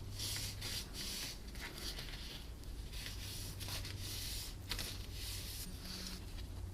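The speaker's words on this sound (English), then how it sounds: "Then you're going to fold this piece along the score lines." Cardstock being folded along score lines for a note card box, giving steady close rubbing and creasing friction with soft paper scraping throughout, no voices.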